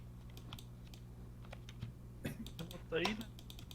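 Rapid clattering keystrokes on a computer keyboard during an online Trouble in Terrorist Town game session, steady and fairly quiet, with a few louder bursts and voices talking over it.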